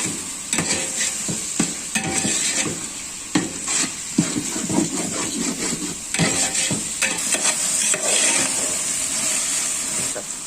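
A cup of yogurt is stirred into a masala mixture in a pan, with steady scraping and wet stirring strokes over a constant sizzling hiss, fairly close and loud, with no talk.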